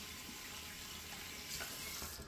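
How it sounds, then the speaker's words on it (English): Tap water running steadily into a shaving soap lather, a faint, continuous splashing hiss with a slight swell near the end. "We're gonna add a little bit more water."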